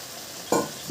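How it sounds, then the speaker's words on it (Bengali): Fried prawns are mixed into taro greens in masala, with a faint sizzle underneath, then a short, close burst of stirring and scraping midway through. "চিংড়ি মাছটা দিয়েও ভালোভাবে মিশিয়ে নেব"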